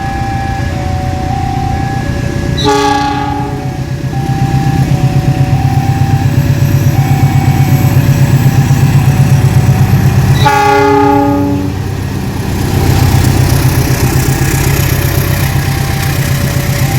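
A GE diesel locomotive hauling the Jayakarta train rumbles and accelerates with a heavy engine drone, sounding two long multi-tone horn blasts, loud and close.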